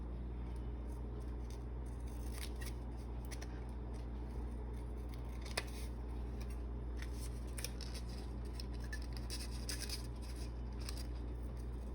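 Scissors snip and crunch through paper as it is cut around a heart shape for a craft project. The small, close cuts come in an irregular run with brief pauses, over a low steady background hum.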